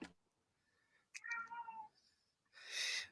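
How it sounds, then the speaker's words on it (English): A cat meows several times, one rising plaintive mew followed after a pause by a louder, harsher cry, close and clear against a quiet background. "the cat meows"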